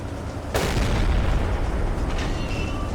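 Shells explode near a freighter in the Silent Hunter 3 naval video game: one sudden heavy boom, then a dense rumbling roar that holds steady to the end.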